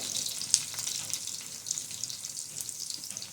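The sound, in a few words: garlic sautéing in a pan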